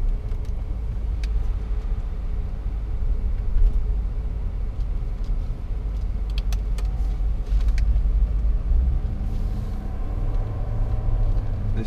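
A 2011 Range Rover TD V8 Vogue SE cruises on the road, heard from inside as a steady low engine and road rumble with faint cabin rattles and no talking.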